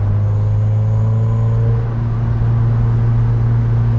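MG TF 135 roadster, an 80th anniversary edition, with its engine droning steadily while driving on the road, a low constant rumble close and loud with no talk over it.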